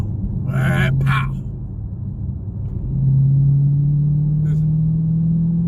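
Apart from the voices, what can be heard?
Dodge Challenger Scat Pack engine revving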